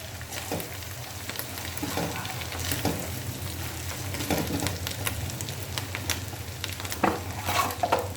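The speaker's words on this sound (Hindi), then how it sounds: "भी तकरीबन 2 मिनट हमने अच्छी तरह भूनना है ताकि इनका कच्चापन दूर हो जाए" Masala spices sauté in a pan for fish curry, giving a continuous close sizzle with intermittent scraping and stirring clatters throughout; no voices.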